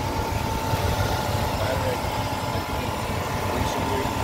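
A stock 5.7-liter V8 in a 1996 Buick Roadmaster idles with a steady low rumble and a faint constant hum.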